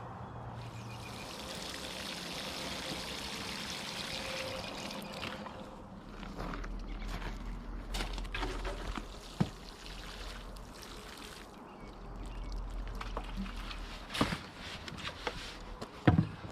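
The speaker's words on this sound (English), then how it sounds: "What do I need? Watering can." Water from a watering can splashing and trickling onto plants in a small kitchen garden bed, soft uneven pouring in bursts with a few knocks, quiet and close.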